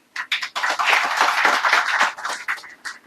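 Audience clapping breaks out during a Marathi political speech, a dense, sustained wave of hands that swells quickly and keeps going for a few seconds before thinning out.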